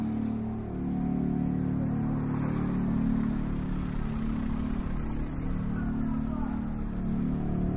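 Cars drive through a residential neighbourhood, their engines a continuous mid-level hum with rises and falls as vehicles pass, moderately close and steady throughout.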